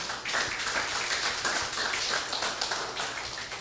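A church congregation applauds, a dense, steady wash of many hands clapping close and loud throughout, with no pauses.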